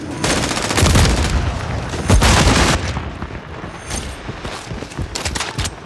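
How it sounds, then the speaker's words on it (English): Dense multiplayer gunfire from Call of Duty Modern Warfare 3 (2023): loud overlapping rifle bursts, booms and rapid shots rolling through the whole stretch, with sharper volleys near the middle and scattered shots toward the end. "Taking fire!"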